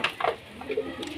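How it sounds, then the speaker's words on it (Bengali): Desi pigeons give a few soft, short coos, faint and close, over a quiet background. "আর একজন আপনাদেরকে সবুজ পায়রা দেখবো"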